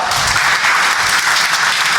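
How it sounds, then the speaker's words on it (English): Audience applause greets a managing director walking onto the stage at a company annual meeting and award ceremony, a steady, dense wash of clapping that holds loud and even for the full two seconds with no voices over it. "Please give an applause for MD Mohammad Arfat."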